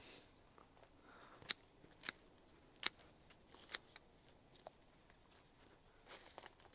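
Secateurs snip through bramble stems outdoors, several sharp crisp clicks spaced about a second apart over faint rustling, cuttings dropping into a bin.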